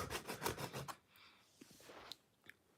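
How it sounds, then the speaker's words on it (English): A cleaning block rubs back and forth along model train track, a quick series of close scraping strokes followed by quieter faint scuffs and light knocks, with no talking. "it just scrapes off the top layer and just takes off any dirt that is with it on the track"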